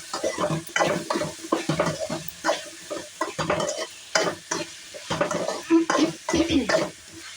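Mango pieces and green chillies being stirred and mixed in a cooking pan, with steady scraping strokes and a sizzle underneath, close and fairly loud throughout.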